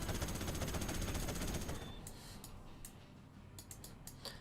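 Rapid minigun fire from units in a real-time strategy video game, a dense loud burst of continuous shooting that thins after about two seconds into scattered faint ticks and shots.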